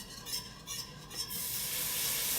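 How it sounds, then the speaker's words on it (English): Rapid whisking of beef stock into a pan sauce, a soft rhythmic swishing that gives way to a steady steamy hiss, with no talking. "we're gonna add in a cup of beef stock over here. and we're gonna add it in very slowly, and we're gonna whisk"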